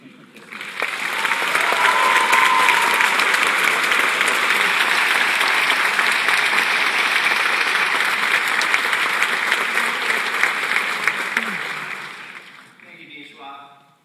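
A graduation audience applauds the JD speaker, sustained, dense clapping from a large crowd that swells quickly and holds steady for about ten seconds before fading away.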